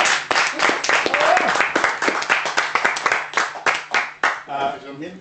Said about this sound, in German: Einmal einen großen Applaus an unseren Bauarbeiter